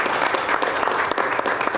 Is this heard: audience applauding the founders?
yes